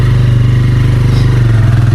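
A motorcycle ridden on a rough off-road track to Murari Devi Temple gives a loud, close, steady engine thrum with rapid regular pulsing and some clatter throughout.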